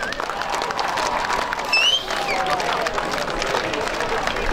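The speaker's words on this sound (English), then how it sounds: "Round of applause for the players" Applause and cheering from the crowd for the players at a local football reserves grand final, a dense steady clapping close and far, mixed with crowd babble and a brief whistle.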